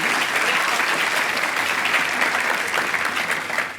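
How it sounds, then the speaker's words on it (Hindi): A studio audience bursts into loud, sustained applause for two guests, including Esha Deol, on a comedy show, dense steady clapping throughout with no talk over it. "दोनों के लिए पहले तो एक बार जोरदार तालियां।"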